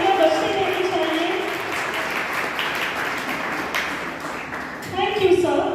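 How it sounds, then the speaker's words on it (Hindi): Applause from an audience at a college seminar on preserving tribal heritage: a dense, sustained patter of clapping that runs throughout, with a brief swell near the end. "बिल्कुल तालियां बजते रहनी चाहिए।"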